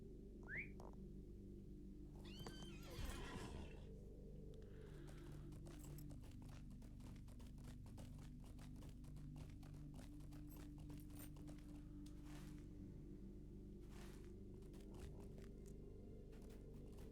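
A horse in the game LOTRO trots with steady clip-clop hoofbeats under a low droning background, with a brief high whinny-like sound near the start; the hooves are fairly faint.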